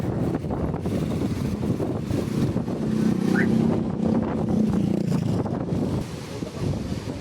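Strong wind buffets the microphone at Bagasbas beach, a constant loud rumbling roar that swells slightly in the middle and never lets up, with no talking over it.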